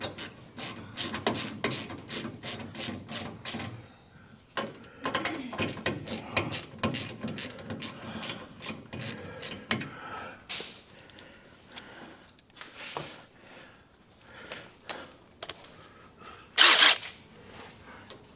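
A ratchet wrench cranks a bolt down to final torque in rapid bursts of sharp clicks, pausing between strokes, close and clear, with a louder rasping clack near the end.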